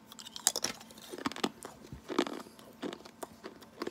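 Crunchy stick of gum from a 1990 Bowman baseball card pack being chewed close up, soft irregular crunches and bites over about four seconds with no talking.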